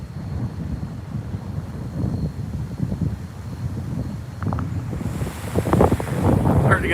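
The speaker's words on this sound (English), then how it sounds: "Starting to get a little bit more wind." Strong wind from Hurricane Laura buffeting the microphone in Lake Charles, Louisiana, a continuous loud rushing roar that gusts harder toward the end.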